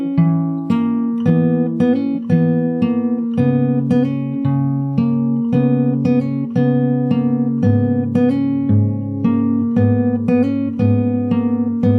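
A guitar repeats a verse pattern of low bass notes and chords, closing with a short melodic fill where the bass notes stop, played close and steady with no voice over it.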